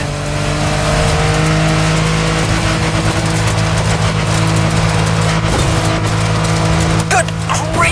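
A loud, steady car engine drone with shifting revs in the racing video game The Crew Motorfest, up close and continuous, with faint talk underneath.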